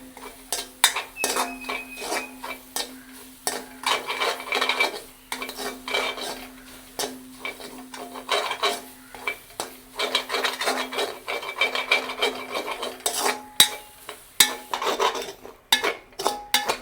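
Grated coconut dry-roasted in a pan without being dried first, a utensil scraping and stirring it against the metal in steady repeated strokes, fairly quiet and close, with no talking.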